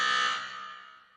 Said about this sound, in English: Let me get to my buzzer.